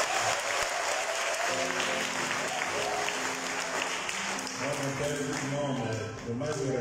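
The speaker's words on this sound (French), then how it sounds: "Donc on acclame pour lui." Church congregation applauding at a Transfiguration celebration at a minor seminary, a steady broad wash of clapping throughout with voices and music tones mixed in underneath.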